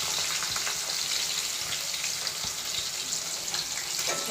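Chillies and garlic sizzle in hot oil in a pan, a steady, close, bright frying hiss with small pops and a stirring clatter now and then.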